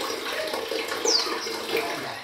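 Artesian well water pours and splashes continuously, a bright, steady rushing flow with small gurgles and a brief higher squeak, heard close and without talk.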